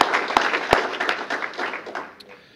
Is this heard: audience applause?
yes